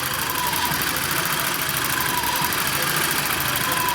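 A 2-litre car engine idles unevenly, its speed hunting up and down because of air leaks, a steady close mechanical drone with a faint whistle running throughout and no talking.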